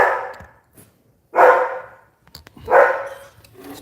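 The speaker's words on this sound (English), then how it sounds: "Let's go see what the dog's barking at." A house dog barks in loud, close bursts: one bark near the start, then two strong barks about a second and a half apart, with short gaps of quiet between them.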